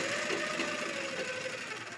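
Sewing machine running steadily while stitching a blouse at the shoulder seam, a continuous close mechanical whirr with a fast needle rhythm lasting throughout and no talk.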